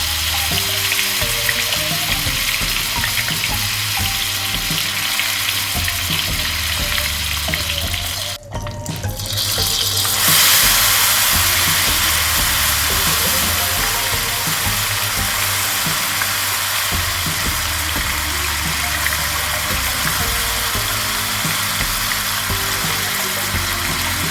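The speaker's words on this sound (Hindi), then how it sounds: "इसकी आवाज़ से ही आप समझ सकते हैं कि बैटर किस तरह से फ्राई हो रहा है।" A loud, continuous sizzling hiss of ghevar batter frying in hot oil over high heat fills the whole stretch, briefly dipping once before resuming strongly.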